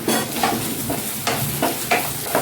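A spoon stirs green chili and ginger paste frying with browned onion in a pan, giving a steady close sizzle broken by several scraping strokes at irregular intervals.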